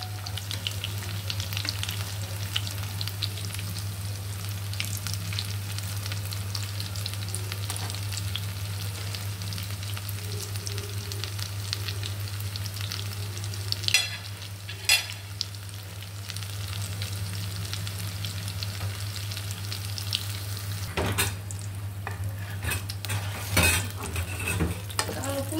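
Pitha frying in moderately hot oil in a pan on a home stove, a continuous even bubbling sizzle with a low steady hum beneath and a few brief utensil knocks, no talking.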